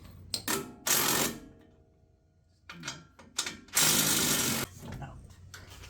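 A self-ratcheting wrench working on the suspension of a 2022 Ford F150, heard as close, rapid bursts of mechanical clicking in two loud spurts with shorter clicks between them, and no talking.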